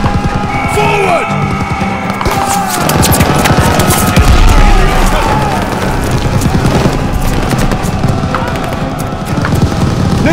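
Rapid machine gun fire in the Call of Duty: Vanguard campaign, loud bursts of rattling shots over a battle din with heavy booms and charging soldiers.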